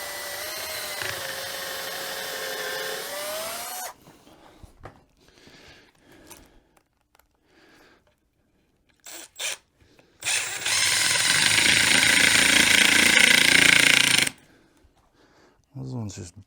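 A power drill drives screws into a wooden drill platform in two long whirring bursts, with a rising motor whine at first and a louder steady run later, separated by quiet clicks and handling noises.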